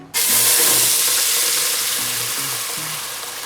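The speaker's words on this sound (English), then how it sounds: "we're gonna put in our blended spinach mixture into the pan" Blended spinach mixture hits hot oil in a pan with a sudden loud, bright sizzle that stays strong and slowly eases off.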